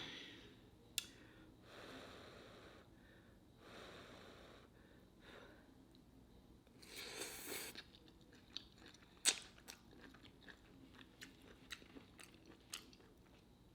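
Faint, close chewing of crunchy noodles from homemade chicken and shrimp alfredo, with intermittent bites, crunches and soft breaths and no talking.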